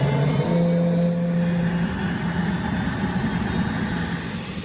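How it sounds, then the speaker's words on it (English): A turbine-powered MTT Turbine Superbike Y2K from Marine Turbine Technologies runs steadily, a loud sustained engine roar with a brief rising whine at the start, continuous and close throughout. "build a turbine-powered motorcycle"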